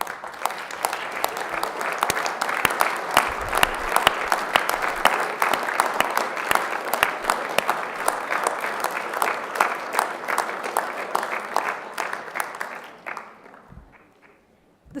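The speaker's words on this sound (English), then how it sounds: "I think it would be great if you could all just stand for a minute and give them a round of applause." A graduation audience stands and applauds the families, with steady, dense clapping from a large crowd for about thirteen seconds that then tapers off into near quiet with a few last claps.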